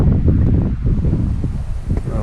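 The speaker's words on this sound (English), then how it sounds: "it's pretty darn windy right now" Strong outdoor wind roars in continuous gusty low rumbling buffets against the microphone, with no clear break across the stretch.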